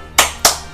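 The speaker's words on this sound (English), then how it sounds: "Applaud." Two sharp hand claps, close and distinct, spaced about a quarter second apart with nothing else around them.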